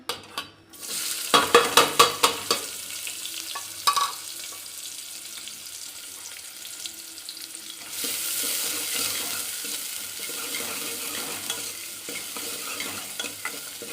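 Onions hit hot oil with a burst of crackling, then a series of rhythmic stirring scrapes. A steady, fairly close sizzle continues after that and grows fuller toward the end.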